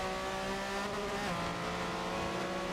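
A Porsche 959 race car in a racing video game drones with a steady, loud engine note and layered harmonic whine, the pitch dipping briefly as it shifts gear partway through, with no voices over it.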